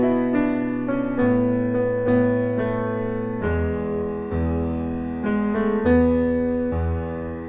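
Piano plays the right-hand riff 2 of a song over the underlying chord progression, a steady flowing pattern of sustained notes with deep bass, clear and alone.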